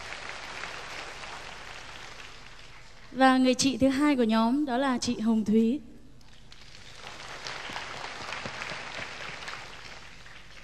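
Audience applause at a live music show swells, then drops away while a presenter introduces a singer, and returns as a steady wash of clapping after the introduction.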